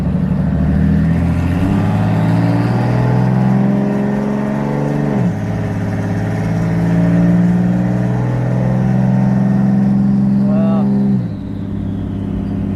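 A Barra-powered Bedford van's engine revving and pulling under load, a loud droning rumble with rising and falling pitch and turbo spool whine, shifts in note as gears change, with people talking over it.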